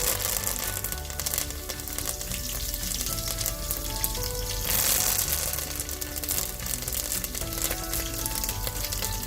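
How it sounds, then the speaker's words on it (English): Fresh curry leaves spluttering in hot oil for a coconut tamarind trout curry give a dense, continuous crackle and sizzle, close and steady throughout. "Fresh curry leaves splutter a lot."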